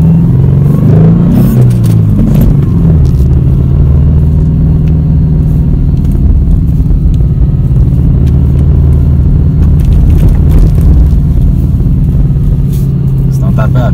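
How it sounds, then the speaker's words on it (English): An all-wheel drive car drives over fresh, untouched snow, its steady engine and road rumble loud and continuous, with faint crunching and scraping from the tires. "It drives pretty well for snow, but it is all-wheel drive."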